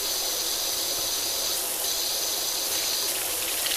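Pressure washer jet in PowerWash Simulator, a bright continuous hiss of spraying water that briefly shifts tone twice as the spray changes, heard alone without talk.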